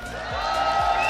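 A crowd at a fighting game tournament roars with sustained, dense cheering, loud and continuous throughout the short stretch.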